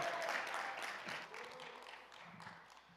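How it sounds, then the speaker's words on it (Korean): A church congregation at a fasting prayer retreat applauds, a moderate, fairly distant patter of clapping that fades gradually over a few seconds. "박수로 환영하며 하나님께 영광 올려드립니다"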